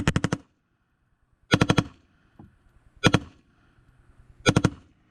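Four sharp bursts of full-auto rifle fire with an aluminum Battlelink Minimalist stock, each a rapid string of about five loud, close cracks, separated by roughly a second and a half of quiet.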